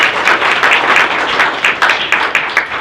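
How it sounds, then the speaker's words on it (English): A sales meeting audience claps for builders who care about realtors, a loud, close run of hand claps lasting a few seconds with a slightly uneven rhythm. "let's give a big round of applause to the builders that care about realtors"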